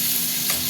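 Tomato goes into a pan of frying onions for a fish curry, giving a brief, loud burst of sizzling oil close up.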